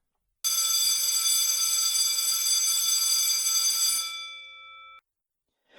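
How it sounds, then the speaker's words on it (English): An electric bell rings loudly and continuously for about four seconds, then cuts off into silence, on a late-1950s-style broadcast. "There's the bell"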